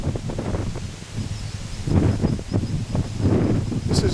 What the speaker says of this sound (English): I'll just let this wind die down.